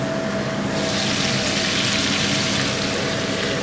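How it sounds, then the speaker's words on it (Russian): Cutlets fry in a pan on a home stove with a kitchen extractor hood running, a steady loud sizzle blended with a constant fan hum and no voices. "работают котлеты, жарятся"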